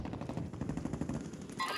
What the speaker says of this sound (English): That's Marcus shooting at him